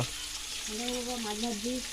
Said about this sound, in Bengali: দেখো মাছ ভাজা হচ্ছে